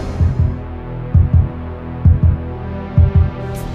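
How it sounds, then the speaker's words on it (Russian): The heartbeat cardiogram of the dog Laika aboard Sputnik 2 comes through as a transmitted signal: paired low thumps repeat at a steady rhythm over a constant electronic hum, loud and without voices. "Во время полета спутника 2 с лайкой на борту на землю передавалась кардиограмма сердцебиения собаки."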